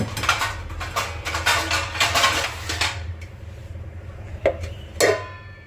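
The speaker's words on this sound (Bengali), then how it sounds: "এবার আমি চাপা দেবো" A metal lid is set over a cooking pot of vegetarian jackfruit curry, with several clanks and rattles of metal against metal, then a quieter pause and two sharper clinks near the end.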